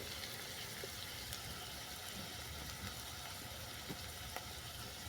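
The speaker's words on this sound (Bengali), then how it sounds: "পেঁয়াজটা কিছুক্ষণ ভেজে নেওয়ার পর দিয়ে দিলাম লঙ্কা গুঁড়ো" Onions fry in a pan with chili powder added, giving a steady close sizzle with small crackles and occasional soft scraping, no voices.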